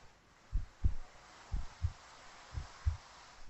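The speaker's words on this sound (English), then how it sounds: "You can hear my heartbeat." A slow, muffled heartbeat thumps in paired beats, three lub-dub cycles, low and soft against a quiet hiss.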